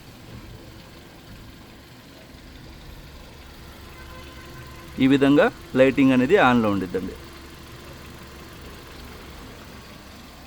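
A Hyundai i20 Asta petrol engine idles with a quiet, steady low hum that runs the whole time, while someone talks for a couple of seconds in the middle.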